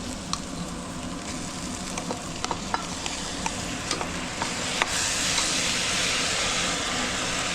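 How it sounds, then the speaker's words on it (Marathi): Rice dropped into a hot pan and stirred while preparing bajra khichda, with steady sizzling and scattered light scraping clicks close by, no talking. "आता तांदूळ टाकते।"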